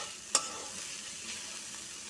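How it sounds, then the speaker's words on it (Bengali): Okra and potato bhaji frying in a pan, a quiet continuous sizzle opened by one sharp clatter of a utensil, with faint stirring afterward and no speech. "এই যে ঢেঁড়স আলু ভাজি হচ্ছে"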